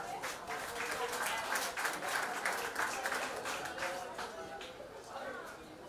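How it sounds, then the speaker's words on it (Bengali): An audience at a felicitation ceremony for a newly selected police constable applauds, a sustained patter of many hands clapping that swells and then gradually fades, with a voice talking over it. "রাজেশের জন্য জোরে জোরে হাততালি।"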